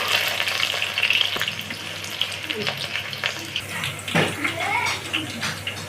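Chopped onion frying in oil in a pan for a chicken curry, giving a steady, close sizzling hiss with occasional stirring scrapes and clinks throughout.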